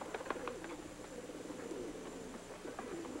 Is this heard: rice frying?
no